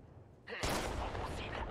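Gunfire in the mobile battle-royale game Apex Legends Mobile, a loud dense burst of shots erupting after a quiet start and continuing to the end, with speech mixed in.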